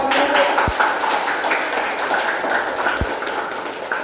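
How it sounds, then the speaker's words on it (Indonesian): A classroom group breaks into applause, a dense wash of many hands clapping at close range that carries on throughout, with two sharp louder thumps standing out. "Kelompok marketing tepuk tangan dulu."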